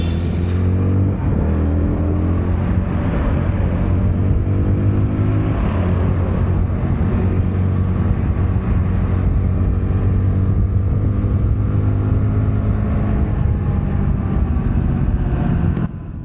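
An orange KTM Duke 160 motorcycle accelerating on a ride, its engine note rising and falling under steady loud wind and road roar, with throttle pulls and shifting revs running continuously throughout.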